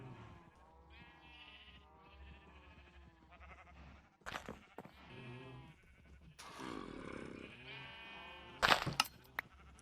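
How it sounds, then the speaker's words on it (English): Sheep in the Minecraft video game, trapped in a pen on a wool farm, bleating repeatedly, with several distinct calls spaced across the stretch and two louder bleats near the end over faint game ambience. "Now we have our sheep trapped."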